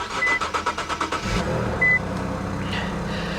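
A 1985 Chevy El Camino SS cranks with a rapid rhythmic starter whirr for over a second, then catches and settles into a steady low idle, recorded close by with no voices.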